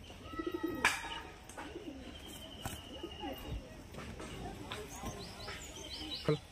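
Laljira pigeons coo softly in a loft, with scattered bird calls and chirps, while people talk over them.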